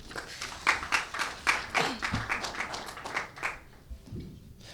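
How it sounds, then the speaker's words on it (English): A brief patter of hand clapping from a small conference crowd, moderately loud at first and thinning out to scattered claps. "I'd like you please give a warm round of applause to Mr. Talal Yassine."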